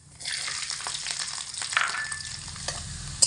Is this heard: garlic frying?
yes